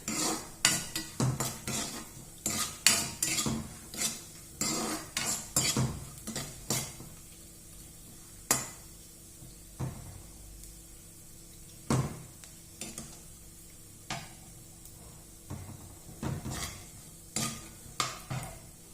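Cashew nuts are fried in a pan, with soft sizzling under repeated sharp metallic scrapes and clinks of a spoon stirring against the pan. The clinks come in irregular bursts, close by, with no voices.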